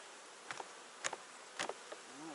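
Honeybees buzz around hive frames during an autumn colony inspection, heard as several brief, close buzzing passes against a quiet background.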